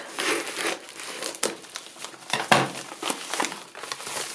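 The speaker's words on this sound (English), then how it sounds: "So let's cut the parcel here." A mailed fabric parcel is cut open and unwrapped up close, giving irregular crinkling and rustling of plastic packaging with occasional sharper crackles and snips, and no voices.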